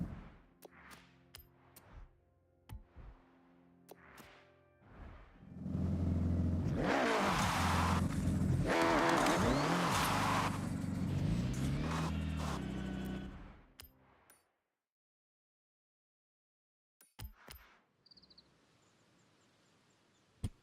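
A Datsun car engine in a racing video game roars loudly for several seconds, rising and falling in pitch as it revs. Scattered clicks and short digital sounds come before and after, with a silent gap near the end.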